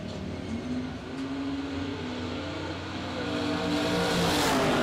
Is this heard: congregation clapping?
no